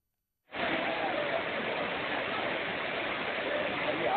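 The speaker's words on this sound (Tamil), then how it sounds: "தண்ணி நல்லா விழுகுது" Courtallam waterfall pouring down while tourists bathe beneath it, heard as a steady, loud broadband roar of falling water that starts abruptly and continues unbroken.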